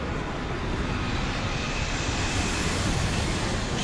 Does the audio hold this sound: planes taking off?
yes